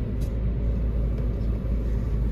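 Steady low road rumble from inside a car on a short drive, with a constant engine and tyre drone throughout and no talking.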